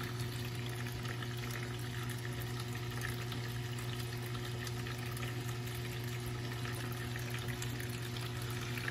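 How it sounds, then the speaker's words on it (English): Steady stream of water pouring into an aquarium past a float switch, fed by a failing Tunze Osmolator Pro top-off controller; a continuous, even hiss and rush with a low hum throughout, no talking. "Water is still coming in, steady stream."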